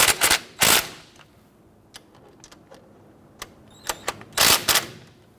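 Clicks and ratcheting bursts from a 14mm socket snugging down brake caliper bolts on a 2005-2021 Nissan Frontier front brake: several sharp loud clusters near the start and end, with sparse faint ticks between.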